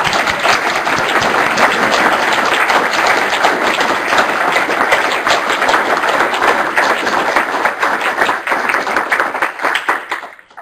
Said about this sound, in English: Can we give him a round of applause?